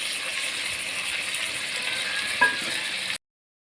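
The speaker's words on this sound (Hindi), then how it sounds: "आलू को भी आपने 5-10 मिनट इसी तरह फ्राई करना है" Potatoes fry with meat over a low flame for aloo gosht, producing a steady, close hiss and sizzle with one brief clink partway through before the sound cuts off.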